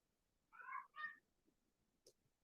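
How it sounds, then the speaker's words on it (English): A pet cat gives two clear meows in quick succession, fairly quiet and close, followed by a brief faint chirp in an otherwise hushed room. "My kitty girl has got something to say."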